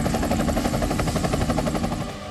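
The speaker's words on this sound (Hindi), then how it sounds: "भारत के स्वदेशी लाइट कॉम्बैट हेलीकॉप्टर प्रचंड ने भी अपने युद्ध कौशल का प्रदर्शन किया।" Rhythmic, chopping rotor thud of India's indigenous Prachand light combat helicopter, loud and steady throughout with no voices, fading slightly at the end.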